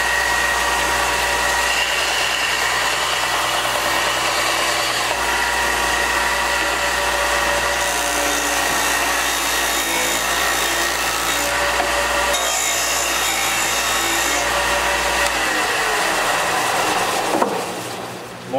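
A motor-driven sander with worn old sandpaper runs steadily against wood in a farmhouse workshop, a loud continuous grinding hum with rough rubbing texture that holds strong under pressure, then cuts off near the end.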